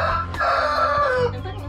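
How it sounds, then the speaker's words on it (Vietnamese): A rooster crows loudly and close by, one drawn-out cock-a-doodle-doo call with no talk over it. "Gà tình hình nó gáy quá trời gáy luôn"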